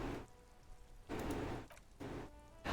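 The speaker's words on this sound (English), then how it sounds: "All around you, rain falls on the great city of" Rain falling over a great city in the game Disco Elysium, a soft, steady patter that swells in a few washes of heavier downpour between quieter stretches, faint and ambient.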